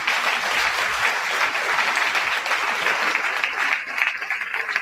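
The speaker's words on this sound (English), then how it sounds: "round of applause" An audience breaks into continuous applause for hospitality funding and sponsors, a thick, steady wash of clapping that holds loud throughout.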